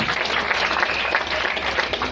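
Congregation at a Pentecostal church service claps loudly together, a dense, sustained wash of applause filling the whole stretch with no break.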